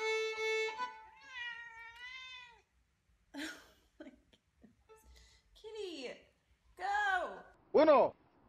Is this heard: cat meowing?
yes